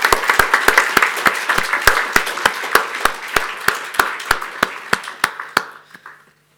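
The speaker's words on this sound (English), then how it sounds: "all give them applause" Applause from a conference audience for cryptography prize winners, heard as a steady run of sharp, evenly spaced claps, fairly close and loud, fading out near the end with no talk over it.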